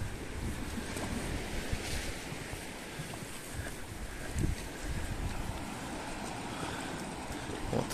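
Sea waves wash steadily onto a beach near Notre-Dame-du-Cap-Falcon on the Côte d'Azur, a continuous broadband surf roar with wind buffeting the microphone and occasional louder swells, no voices.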